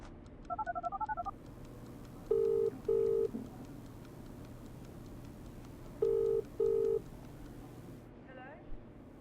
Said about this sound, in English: It took every ounce of courage in my body to pick up that phone and call her.